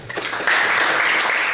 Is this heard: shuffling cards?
no